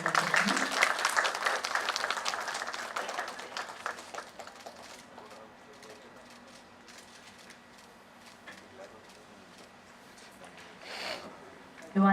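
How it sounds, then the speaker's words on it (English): A round of applause at a government ceremony starts loud and crowded, then thins and fades over a few seconds into quiet room tone with scattered sounds. "Can we have a round of applause, please?"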